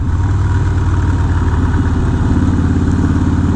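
A Harley-Davidson Night Train motorcycle engine runs with a loud, close, steady loping rumble and no voices over it.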